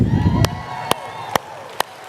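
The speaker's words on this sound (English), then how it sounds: "The clapping is so awkward." A small audience at a gathering gives a few sparse, separate claps after a brief burst of cheering, four sharp isolated claps spaced evenly over a quiet room.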